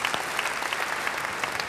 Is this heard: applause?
yes